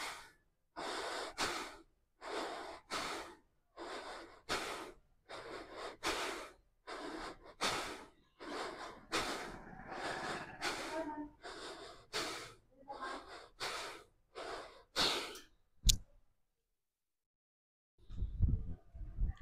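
Deep, rhythmic breaths during a yoga pose with palms joined overhead, about eight slow inhale-exhale cycles taken close up, each breath an audible airy rush, followed by a brief click and silence.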